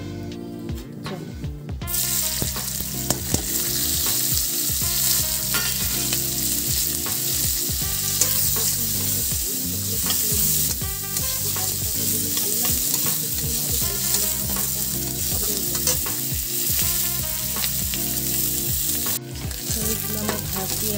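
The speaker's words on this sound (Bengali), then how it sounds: "রসুন, পেঁয়াজ, কাঁচা লঙ্কাটা সব একসাথে দিয়ে দেবো, দিয়ে ওটাকে হালকা ভেজে নেব" Garlic, onion and green chilli sizzle steadily in hot oil in a wok, with frequent stirring scrapes and clatter throughout, close and loud, and no voices.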